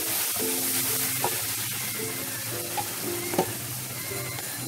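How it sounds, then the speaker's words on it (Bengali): Garlic paste fries in a pan with a continuous close sizzle, broken by a few soft clinks of a spoon against the pan; no one speaks. "এক চামচ রসুন বাটা দিচ্ছি।"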